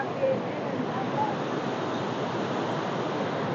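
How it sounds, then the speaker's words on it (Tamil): Water pours through the third spillway gate of a dam as a steady, dense, broadband rush that stays loud and unbroken throughout. "மூன்றாவது வான்கதவுல போற தண்ணி"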